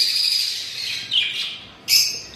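Baby pet birds, five chicks from one breeding pair, chirp close by in three high, thin bursts, each rising and then fading, with no voices.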